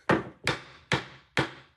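A hammer bangs four times in an even rhythm, each blow a loud, sharp wooden knock with a short decaying ring, close by and alone.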